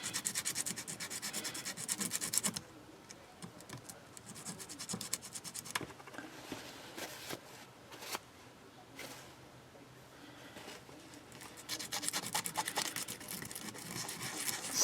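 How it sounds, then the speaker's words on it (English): A polymer clay flower-petal cane pendant is wet-sanded by hand, giving close, soft, scratchy rubbing strokes that run steadily, ease off and quieten through the middle, then build back up near the end. "I got that one sanded. I need to do a little bit on that side."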